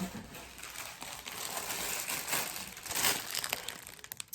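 Steady crinkling and rustling of paper being unwrapped from a large diamond painting kit, close up and continuous, growing busier toward the end.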